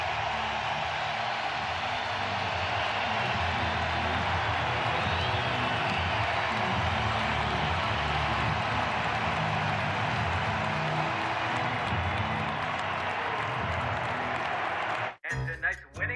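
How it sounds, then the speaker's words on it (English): A ballpark crowd at a 2022 Wild Card Series playoff game in Cleveland gives pitcher Shane Bieber a sustained ovation of applause and cheering as he leaves the game. The roar holds steady and loud before cutting off abruptly near the end. "Shane Bieber is going to get an unbelievable hand."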